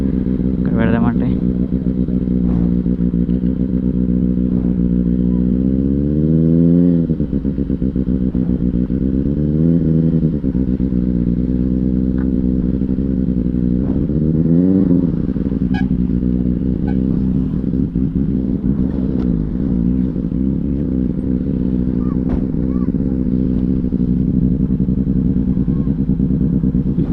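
Superbike engines such as a Benelli 600i, Kawasaki, BMW and Triumph drone at a Punjabi dhaba parking stop, a loud steady idle rising in several revving swells while voices talk over the engine noise.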